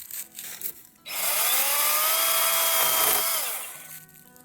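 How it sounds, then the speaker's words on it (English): A Kobalt handheld mini chainsaw cuts through diseased fruit tree branches. One steady, close buzzing burst lasts a few seconds and then winds down, with quiet before and after. "So we're gonna cut the branches using the Kobalt A handheld"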